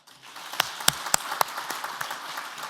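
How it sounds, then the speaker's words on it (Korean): Church congregation at a men's fellowship prayer meeting gives a short round of thank-you applause, a few uneven claps rising briefly and fading within seconds. "어제 갑자기 나와서 봉사해 주신 분들께 감사 박수 드립니다"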